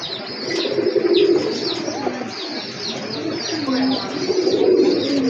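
Several pigeons of the Giya breed coo repeatedly at close range at a Dhaka pigeon seller's, with soft chirps and tweets scattered over a steady, busy background.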